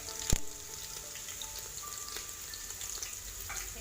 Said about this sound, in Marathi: हे चांगलं परतून घेऊया आपण।